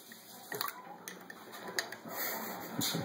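Water swishing and dripping as an egg is stirred in a cup of dye, with light splashes and trickles close by and no talking.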